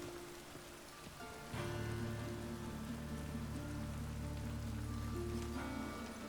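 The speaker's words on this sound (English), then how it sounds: "It just rains and rains." Steady rain pours in The Witcher 3 video game, a dense, even hiss that grows louder partway through and then holds without voices.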